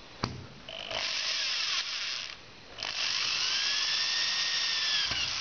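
A cordless electric drill set to clutch setting 4 drives a self-tapping screw while assembling a door frame with a threshold, whirring in two close bursts that rise in pitch as the screw bites, separated by a short lull.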